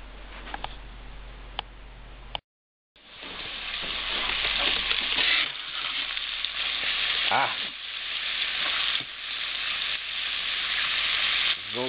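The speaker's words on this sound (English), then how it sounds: "And now we'll get right down to frying the bacon." Bacon sizzles and crackles loudly in a hot pan, cooked for German potato salad, a steady frying hiss with occasional pops and stirring, close up after a brief pause.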